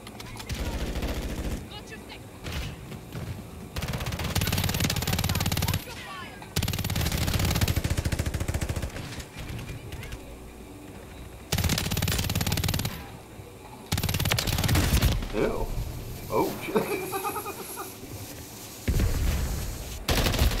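Rapid pistol fire in a video game, loud and close, coming in repeated bursts of several seconds each with pauses between, with a voice talking in the gaps.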